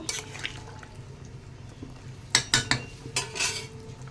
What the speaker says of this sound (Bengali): এখন মাছগুলিকে ঠেলে দেব মাছগুলিকে দিয়ে একটু নাড়িয়ে নেব